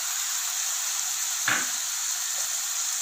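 Steady hissing sizzle of vegetables, including tomato and sweet corn, sautéing in a hot pan over medium flame, with a brief stirring scrape in the middle.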